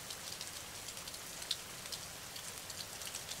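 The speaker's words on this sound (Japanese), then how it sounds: "ネガティブな感情のエネルギーを雨の音で洗い流していきましょう" Soft, steady rainfall patters on surfaces, a faint and even hiss of many scattered drops with no voices, quiet and close like rain heard from indoors.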